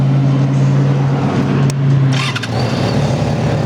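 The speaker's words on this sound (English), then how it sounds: "Starts right up. The motor's real smooth on this bike." A Yamaha FZ6 inline-four motorcycle engine fires up and settles into a steady, smooth idle, a close and continuous low hum throughout with a brief sharp click near the start.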